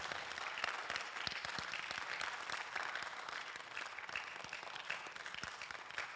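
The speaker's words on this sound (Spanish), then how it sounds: "Give a loud applause to the Lord for his word." A church congregation applauds loudly and steadily, dense clapping filling the space without a break and no voices standing out.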